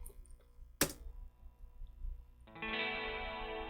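A soloed guitar track with small-room reverb plays during mixing of a song. A few faint clicks and a sharp tap come first, then a sustained effected guitar chord rings out.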